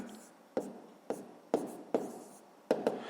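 Pen strokes on paper while a math solution is written out by hand, five or six short scratchy bursts at an uneven pace, close and fairly quiet.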